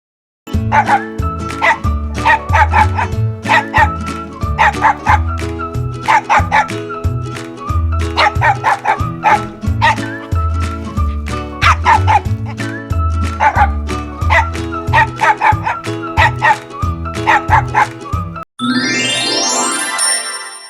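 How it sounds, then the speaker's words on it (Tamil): Loud, repeated dog barks and yips in a steady rhythm, close and prominent, with a brief whimpering sweep near the end. "நாய் குரைக்கும்"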